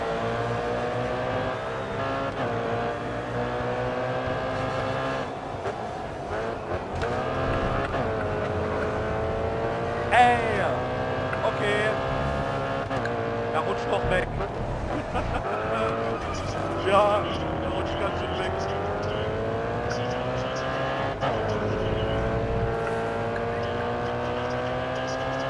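Mercedes-Benz race car engine in GRID Autosport, droning steadily at sustained revs with pitch rising and falling through gear changes, brief tire squeals, and someone talking over it.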